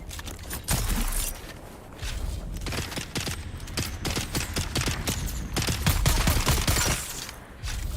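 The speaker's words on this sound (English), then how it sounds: "Alright, shooting zombies." Rapid gunfire from shooting zombies in the survival game Dune: Awakening, dense bursts of sharp shots and impacts continuing for several seconds without speech.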